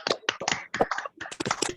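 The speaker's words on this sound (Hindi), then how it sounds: "अरे बहुत धीमी तालियां हैं" Sparse, faint clapping from a small online audience at a business opportunity program, a few uneven bursts of hands separated by short gaps.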